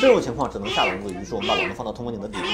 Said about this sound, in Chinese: 只能听到有个像鸭子一样的小猫在叫